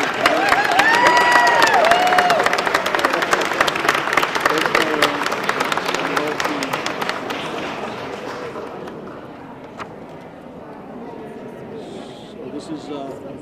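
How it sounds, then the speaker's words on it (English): Audience applause at a gun-related bill signing by a governor, loud sustained clapping and some cheering for several seconds that gradually tapers off, with a voice speaking over it. "let's give another round of applause of that and enjoy every second of this moment"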